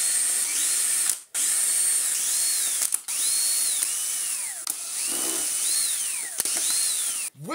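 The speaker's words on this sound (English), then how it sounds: "we'll get our drill and have you one undo, not to do up" A power drill whirs in short bursts undoing screws on a Vorwerk VR100/Neato XV robot vacuum cleaner, its motor pitch rising and falling as it spins, with brief pauses between runs.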